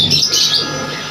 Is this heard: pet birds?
yes